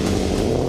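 A heavy car weighing 1,743 kilos revs its engine loudly at the start of a slalom, a brief, close, dense roar with no talk over it.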